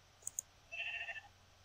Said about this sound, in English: Oh, oh, brown sheep. I'm gonna kill it.